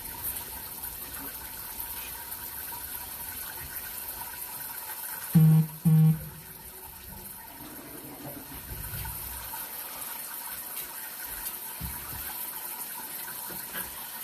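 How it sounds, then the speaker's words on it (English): Water runs from a tap into a utility tub, a steady faint hiss throughout with a couple of brief louder thumps near the middle, no voices. "There goes the water."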